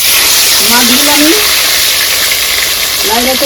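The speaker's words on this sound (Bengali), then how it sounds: "মাছগুলো পুরো ভাজা হয়ে গেছে" Thin pieces of stingray fish sizzle in hot oil in a wok, a loud, steady hiss and crackle of frying close up, with a voice talking faintly underneath.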